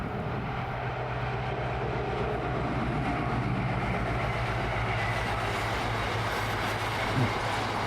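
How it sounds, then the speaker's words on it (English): Class 60 locomotive 60021 Penny Gant hauls a coal train past, a steady distant diesel drone with a low engine hum and the continuous rolling rumble of wagons, fairly faint and unbroken. "The second train which caught me off guard was number 60021 Penny Gant, on a coal train."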